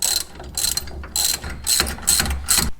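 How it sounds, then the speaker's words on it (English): Ratchet wrench clicking in bursts while tightening brake caliper bracket bolts on a 1996–2002 Dodge Viper rear big-brake upgrade, several short close rapid ratcheting runs with brief pauses between. "Let's tighten those bolts."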